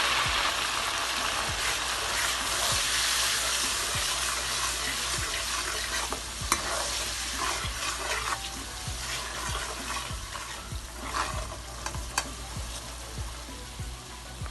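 Dry spices and a little water sizzle and bubble in a pan for halwa puri, a steady close frying hiss with scattered taps and scrapes of stirring throughout.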